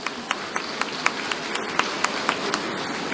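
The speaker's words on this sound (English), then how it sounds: "Please give her another round of applause" A conference audience of accountants applauds after a speaker's talk, a steady patter of many hands with a few sharper individual claps standing out at a regular pace.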